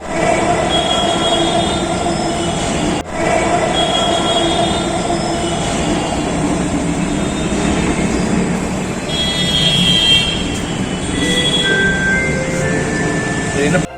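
A Delhi Metro train rumbles steadily along the track, loud and continuous, with faint squeals and a muffled voice or announcement in the background.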